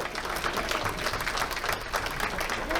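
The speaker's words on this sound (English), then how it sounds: "So please give Mary another round of applause." Sustained audience applause for an honoree at an awards ceremony, a dense, even roar of many hands clapping that carries on at steady loudness from start to finish.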